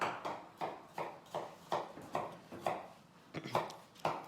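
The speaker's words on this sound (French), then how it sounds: "Donc, je vais tailler mes oignons." Onions being chopped with a knife on a board, a regular run of about ten crisp, moderately loud chops spaced roughly half a second apart, with a short pause near the end.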